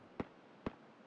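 Two sharp gunshots ring out in the virtual-reality shooter Hot Dogs, Horseshoes & Hand Grenades, spaced about half a second apart and fairly faint, as if fired at some distance.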